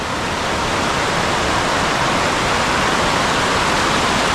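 A waterfall in the Andharban forest of Maharashtra roars in a steady, dense, loud rush of falling water, continuous and unbroken throughout, with no voices.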